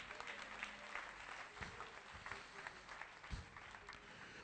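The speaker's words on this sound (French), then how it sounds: "Applaudissez Jésus, applaudissez Jésus." A church congregation claps for Jesus during a French-language sermon, a soft, continuous patter of applause with a few sharper claps, at moderate distance and fairly quiet.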